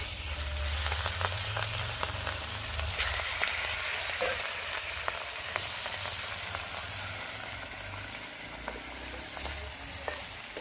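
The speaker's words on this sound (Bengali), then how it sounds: "পরপর মাছগুলো ভেজে নিই।" Fish and fish heads fry in a pan of hot oil. A steady, close sizzle and hiss carries on throughout, with scattered sharp crackles and pops and occasional scraping stirs.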